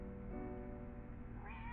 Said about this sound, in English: Oh, that's a cat.